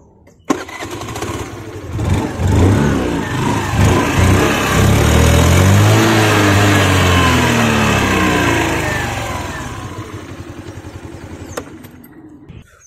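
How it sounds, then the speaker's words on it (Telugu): A Hero Pleasure Xtech scooter engine starts with a sharp catch, then revs up to a loud, sustained drone before easing back to a steady idle, close up with no talk. "ఇప్పుడు ఈ స్కూటర్ ని స్టార్ట్ చేసి సౌండ్ ఎలా ఉందో విందాం"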